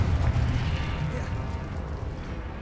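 A Confringo blasting spell explosion in Hogwarts Legacy, a loud, close, rumbling boom that fades slowly over a couple of seconds.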